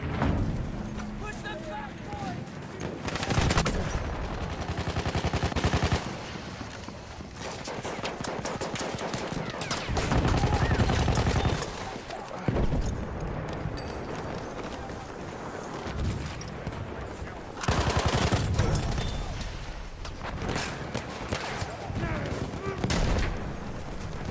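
Rapid gunfire in the video game Battlefield 1 rattles in repeated automatic bursts and single shots, loud and close, with short gaps between volleys and a player's voice talking over the action.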